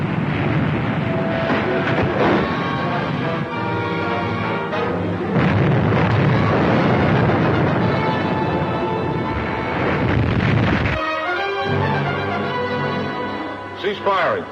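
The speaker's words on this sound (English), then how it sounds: "Fire! Commence firing." Naval gunfire effect from a Don Winslow of the Navy radio serial: heavy booming, rumbling blasts roll on one after another, loud and near, with voices shouting over and between the shots.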